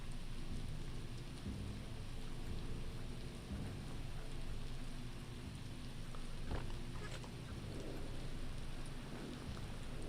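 Rain pours steadily in the game Biomutant with low rolling thunder, a dense, quiet hiss of drops and deep rumbles swelling and fading, with no talking.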